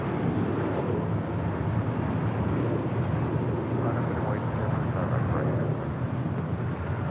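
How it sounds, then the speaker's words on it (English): An Airbus A320 arriving at LAX, heard as a steady broadband jet rumble and rush from a distance, continuous and even throughout, with faint wind noise and no talking. "Viva Aerobus flight 510 coming in from Guadalajara in this A320"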